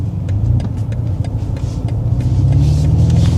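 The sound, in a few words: BMW M3 Touring driving onto dual carriageway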